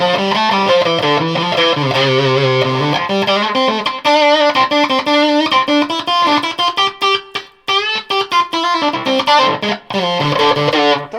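Electric guitar played through a Walrus Audio Eons Five State fuzz pedal, distorted sustained chords and melodic notes with rich buzzing harmonics, loud and close, phrases stopping and restarting, no talking.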